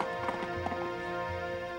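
Hooves of the horse Silver clip-clop in quick, light rhythm in an old Lone Ranger radio drama, steady over a hissy, humming recording.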